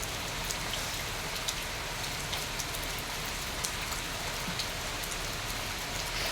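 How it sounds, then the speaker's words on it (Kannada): Steady rain falls continuously, a dense hiss with scattered drops pattering on a surface, no voices throughout. "ಮಳೆ ಬರ್ತಾ ಉಂಟು ನಿಮಗೆ ಬ್ಯಾಕ್ಗ್ರೌಂಡ್ ಸೌಂಡ್ ಕಿರಿಕಿರಿ ಕಿರಿಕಿರಿ ಅಂತ ಕೇಳಿಸ್ಬೋದು"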